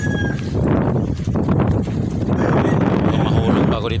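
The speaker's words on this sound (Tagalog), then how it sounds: "kasi ang lakas ng hangin" Strong wind by the sea with rough water, heavy blustery gusts buffeting the microphone in a constant loud roar, while someone talks over it.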